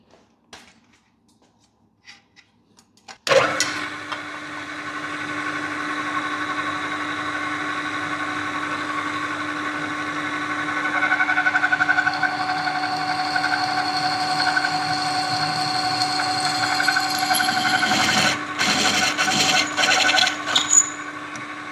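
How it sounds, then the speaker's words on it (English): A power drill bores a hole through a fabricated steel engine mount plate for a 1000+ HP LS engine, starting abruptly after a quiet moment and whining steadily and loudly, rising slightly in pitch as it works, with a few brief stutters near the end. "So let's get to drilling."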